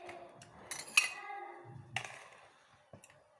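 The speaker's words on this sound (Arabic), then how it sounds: "مره نحرك حتى يذوب السكر" A spoon stirs sugar into squeezed lemon juice for homemade lemon concentrate, giving several bright metallic clinks against the container, then softer scraping and a final clink.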